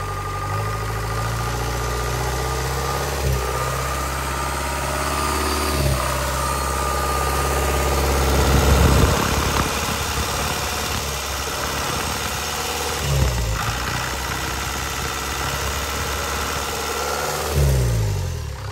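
A Kubota V2403 diesel engine from a DC70 idles steadily on a test run, a continuous low rumble with an even knocking pulse, loud and close, with a few brief thumps and no talk.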